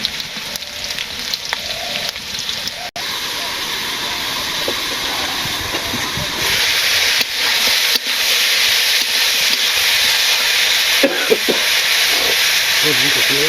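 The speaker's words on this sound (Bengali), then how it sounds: "আলুগুলোকে ভেজে নিচ্ছি" Potatoes fry in a pan for a village-style rohu fish curry with potato and eggplant, giving a continuous loud hissing sizzle that swells partway through, broken by a few utensil knocks.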